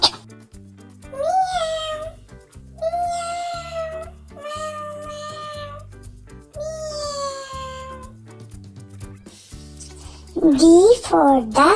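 Cat meowing in a children's alphabet phonics song, with a series of drawn-out meows over a light musical backing, followed by a higher, louder yowl near the end.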